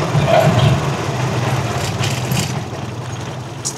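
A Rusi Chariot 175 trike's engine runs steadily nearby, a low continuous rumble with a faint vibrating throb and no clear revs or gear changes.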